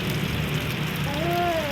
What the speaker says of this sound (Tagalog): Umulan po yung paligid natin.